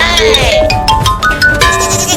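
Baby goat bleating in an animated cartoon, a series of wavering, high cries over busy background music and effects, fairly loud throughout.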